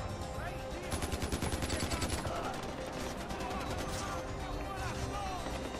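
Automatic gunfire in Far Cry 4, dense rapid bursts of shots continuous under a loud game soundscape with music and effects, near and sustained throughout.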